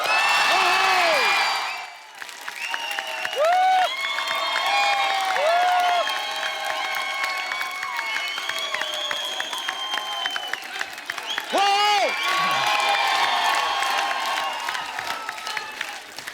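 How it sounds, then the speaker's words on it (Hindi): A television studio audience at The Kapil Sharma Show applauds and cheers loudly as superstar Salman Khan is welcomed on stage, with a dense, sustained roar of clapping, whoops and music that briefly dips, then swells again. "आप सबकी जोरदार तालियों के बीच में इनवाइट करना चाहूंगा one and only superstar mister Salman Khan"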